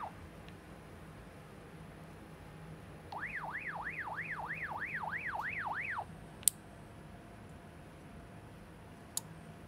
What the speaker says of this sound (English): it's broadcasting the alarm.